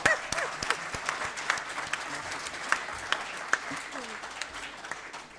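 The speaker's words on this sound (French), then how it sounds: "Je pense que les applaudissements ne sont pas suffisamment à la hauteur." Audience applause at a conference in Senegal marking Rwanda's national heroes day: a faint, thin patter of scattered claps in a large room that tapers off over several seconds, with a few sharper individual claps standing out.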